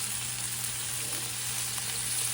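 Shrimp frying in a pan for tacos give off a steady, close hiss and crackle with a low constant hum underneath, no voices over the sizzle.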